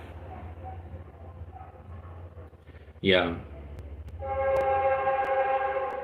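A train passes at a distance with a rising horn blast, followed by a sustained multi-tone horn call, while a person talks over the rumble.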